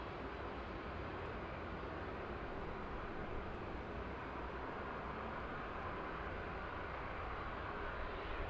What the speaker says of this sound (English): West Atlantic 737 just approaching us then.